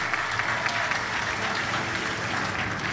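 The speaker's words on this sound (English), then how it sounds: "I give him another round of applause" An audience at a high school senior graduation applauds a retired Navy captain with steady, full clapping from many hands, continuous and fairly loud throughout.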